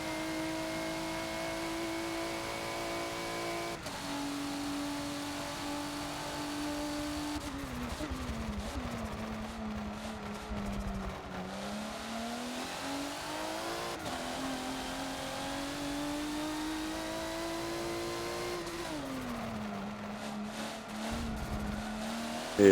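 A race car engine in Forza on the VIR Grand West track revs hard and steadily, with its pitch dropping at several gear shifts and climbing again. The sound is loud and close, with no talk over it.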